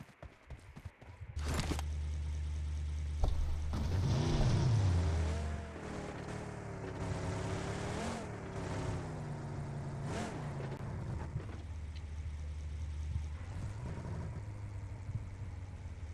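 Engine drone of a vehicle driving in PUBG, a steady low hum that rises in pitch as it accelerates, then levels into a continuous rumble with shifting whine, close and alone.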